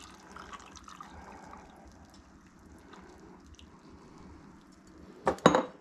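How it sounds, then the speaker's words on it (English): Shaken coconut cocktail poured over ice into a hollowed pineapple, a faint liquid trickle and clink under a low background hum, ending in a brief louder splash and rattle of ice near the close. "Pour this in."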